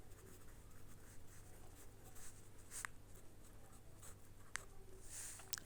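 Pen or pencil scratching steadily across paper while math problems are worked out, a continuous soft scraping texture with a few sharper taps and strokes, close and fairly quiet.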